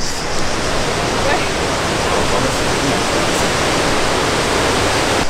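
A waterfall pours steadily and loudly nearby at a swimming spot, a dense unbroken broadband roar that fills the whole clip with no pauses or lulls.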